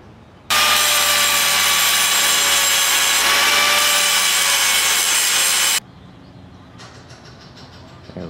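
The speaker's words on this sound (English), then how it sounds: "I'm just going to grind away now and get things smooth" Angle grinder smoothing welded metal on a motorcycle rear frame hoop of a GS550 cafe racer build, a loud continuous close-up shriek for about five seconds that cuts off sharply, followed by quieter clatter.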